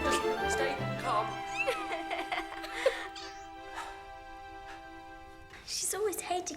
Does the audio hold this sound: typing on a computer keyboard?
no